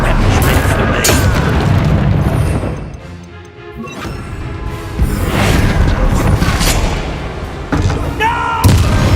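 Loud explosive booms and crashes from spells cast in Hogwarts Legacy combat, including a Bombarda blast, dense and continuous with a brief lull midway, with game sounds layered throughout.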